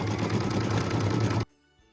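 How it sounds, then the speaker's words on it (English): An embroidery machine stitches a light blue snowflake fill on a Christmas ornament with a rapid, loud, evenly pulsing chatter that stops abruptly, leaving near silence. "Machine step 11 is stitching a snowflake fill."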